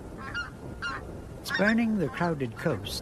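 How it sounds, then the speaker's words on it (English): Pink-footed geese in Icelandic highland marshes honk in several nasal calls, growing louder and overlapping midway, while a narrator speaks over the start. "pink-footed geese deliberately court the frost giants"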